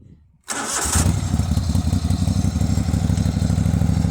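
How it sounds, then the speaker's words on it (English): The engine of a Wheel Horse mud mower, with worn, grinding bearings, cranks and catches after a brief pause, then settles into a loud, close, rapidly pulsing idle with a clattery mechanical rhythm. "I'll fire this thing up for you guys so you guys can hear it"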